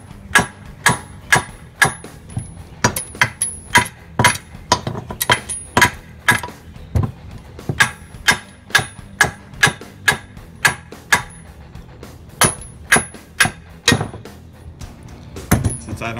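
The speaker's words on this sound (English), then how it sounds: "since I don't care, just hammer right on off it" Metal-on-metal hammer blows strike a busted steering knuckle on a Nissan 240sx front hub during a 5-bolt hub conversion, dozens of sharp ringing clanks in quick irregular bursts, loud and close with no talk.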